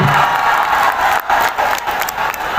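A crowd gathered for a Rangpur Riders cricket team tour event claps loudly and continuously, with a brief dip midway before the dense applause resumes.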